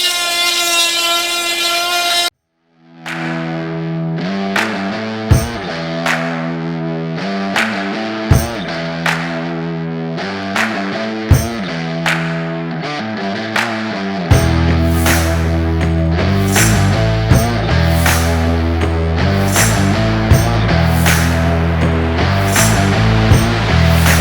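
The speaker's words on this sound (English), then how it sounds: "when I do it with this grinder, it makes quick work of it" A bench grinder dresses the rakers on a chainsaw chain, one side after the other: steady motor drone punctuated by a string of short, regular grinding bursts, close and loud, without speech.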